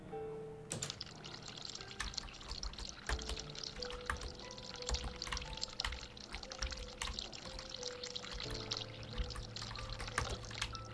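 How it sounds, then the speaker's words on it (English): Hot water running steadily from a sink tap in the video game The Cat Lady, a continuous pouring wash with small drips, fairly quiet and alone, with faint musical tones underneath. "Turn hot water on."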